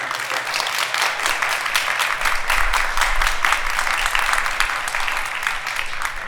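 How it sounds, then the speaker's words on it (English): An audience applauds at a teacher-of-the-year celebration, a steady, dense clapping that holds at full strength throughout with no talk over it. "So I'd ask you to give them a round of applause."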